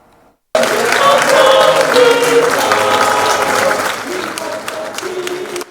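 Loud, dense applause from a standing university audience bursts in suddenly and keeps going steadily, with voices mixed into the clapping before it eases slightly toward the end.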